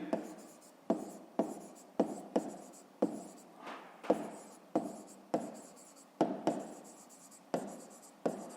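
Pen or pencil writing by hand on paper while working a fifth-grade maths exercise, with a steady series of scratchy strokes, each opening with a sharp tap, close and quiet with no talk.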